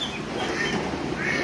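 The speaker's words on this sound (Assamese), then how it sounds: "সৰু হাঁহখিনিক ইয়াতে আনি ভৰাই থলোঁ এই ঘৰটোত" Small ducks quack together in a dense, continuous chorus, close and steady without a break.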